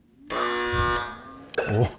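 An alarm buzzer mounted in a commercial building sounds with a loud, steady harsh tone for over a second, then a short voice exclamation follows.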